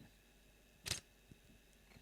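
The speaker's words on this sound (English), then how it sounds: "how quiet the mechanical shutter is" The mechanical shutter of an OM System OM-3 camera fires once, a single soft, quick click in a near-silent room, followed by a faint tick, very quiet overall.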